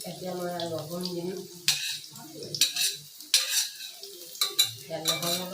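Garlic fries in oil in a pan for a mustard and small fish curry; a brief voice speaks first, then close, sharp stirring scrapes and clinks come in uneven bursts over a light sizzle.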